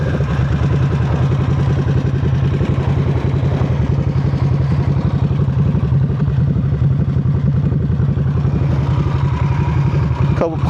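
A Harley-Davidson Nightster 975 motorcycle with its silencer removed rumbles at a loud, steady idle close by, a continuous low throbbing that holds for the whole stretch.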